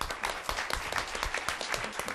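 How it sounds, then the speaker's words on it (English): A conference audience claps for a speaker at an event on energy cooperation with China, a dense steady patter of many hands sustained throughout. "a round of applause for David real quick"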